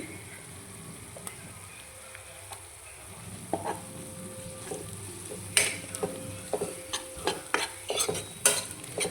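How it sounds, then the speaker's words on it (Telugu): Tomato pieces dropped into a pan for potato curry, followed by a frying sizzle and increasingly frequent stirring scrapes and taps against the pan, close up. "ఇప్పుడు టమాటా ముక్కలు వేస్తున్నానండి"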